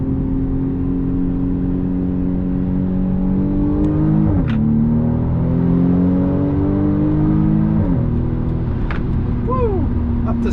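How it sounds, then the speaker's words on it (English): A 2020 BMW M235i Gran Coupe accelerates hard in second gear around a corner, its engine note climbing steadily in pitch with a brief dip partway. The sound stays loud and continuous from inside the car, with a voice talking over it. "RPM, just holding it in second gear coming around this corner."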